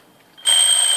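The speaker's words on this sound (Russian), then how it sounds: "Ну-ка, давайте-ка проверим будильник." A cheap alarm clock from a parcel ordered from China suddenly lets out a loud, piercing, steady electronic beep after a short quiet pause.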